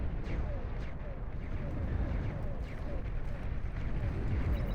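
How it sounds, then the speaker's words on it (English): Banisher guided missile launchers firing in the real-time strategy game Beyond All Reason, repeated booming launches and rumbling blasts over a steady, dense battle din. "Watching the Banishers work is a thing of beauty, and probably one of the coolest sounding missiles in the game"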